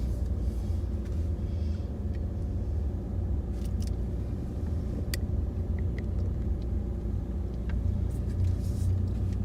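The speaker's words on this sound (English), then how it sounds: "Just driving through the campus right now." Car driving through a hospital campus, a steady low engine and road rumble from inside the vehicle with a few faint clicks.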